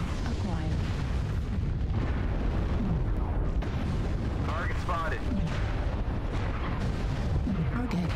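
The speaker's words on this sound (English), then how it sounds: "Oh, I have an artillery strike." Artillery strike explosions in a mech combat video game, deep rolling booms over constant loud battle noise and mechanical clatter, with voices talking over them.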